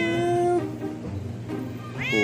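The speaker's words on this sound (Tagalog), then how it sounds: "Guys, may lumapit sa atin na pusa." A cat meows up close in a few drawn-out, tonal cries, one at the start and another rising at the end, with a quiet outdoor background between them.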